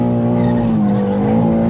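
A 600hp BMW G87 M2 drifting at Santapod, the engine holding a loud sustained high-rev tone mixed with continuous tyre squeal, steady and close throughout.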